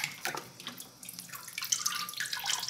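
Homemade liquid laundry soap, a thickened Ariel-style detergent, pours from a tap into a bottle, a steady close trickle and splash of liquid that rises in pitch as the bottle fills, with no talking.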